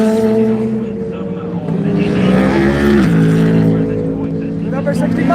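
Corvette and Mustang GT3 race cars at Daytona during the Rolex 24, engines roaring loudly and continuously with a rising pitch as they pass, under a commentator's talk.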